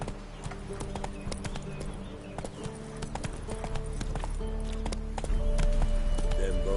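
Roach the horse gallops in The Witcher 3 with fast, rhythmic hoofbeats on the ground, steady and close, as someone speaks briefly over the running.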